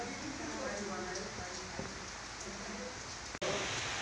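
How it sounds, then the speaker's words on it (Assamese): Steady rain falls through a gloomy morning of bad weather, a continuous even hiss with voices talking over it. "আজি বতৰ বহুত বেয়া, বৰষুণ দিয়ে আছে ৰাতিপুৱাৰ পৰা"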